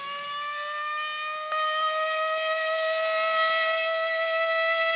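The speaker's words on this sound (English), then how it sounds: "But tomorrow, this siren may mean the real thing." A civil defense air raid siren sounds during a practice drill, a loud sustained wailing tone that holds and swells slightly, heard alone without voices.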